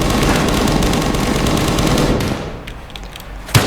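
A gun in Roblox fires in a fast, loud automatic stream for about two seconds, then falls silent, followed by one more sharp shot near the end.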